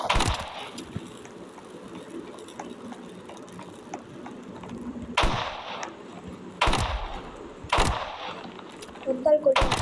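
Gunfire rings out in three sharp, loud blasts spaced a second or so apart, each with a ringing tail, over a background of low rumble and clatter.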